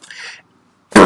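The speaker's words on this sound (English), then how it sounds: "Little cough." One short, sharp cough bursts out loud and close at the end, after a faint, breathy vocal sound and a brief pause.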